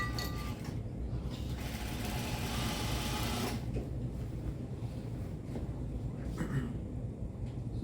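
A sewing machine stitches the underarm seam of a shirt, a close mechanical whir with short bursts and pauses, running continuously under a low background rumble.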